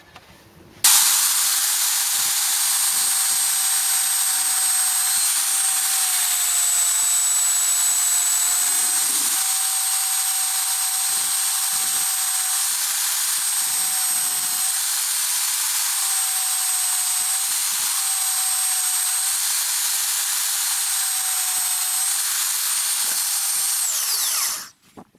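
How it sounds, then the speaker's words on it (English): A belt sander clamped to a workbench shapes the corners of a wooden chopping board, giving a loud, steady high-pitched whine with a constant abrasive hiss that runs for about twenty-four seconds before cutting off abruptly. "Clamping the belt sander to the bench like that allows me to just run it along there and shape the corners."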